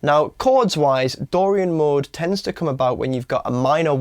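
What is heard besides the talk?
None of the usual background noises is heard.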